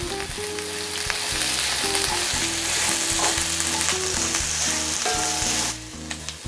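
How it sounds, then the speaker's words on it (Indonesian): Thinly sliced shallots sautéing in a pan, stirred now and then. A loud, continuous sizzle of oil runs throughout, with scraping from the stirring, and background music plays beneath it. "Saya tumis-tumis, diaduk-aduk sampai bawang merahnya juga mengeluarkan aroma yang harum ya."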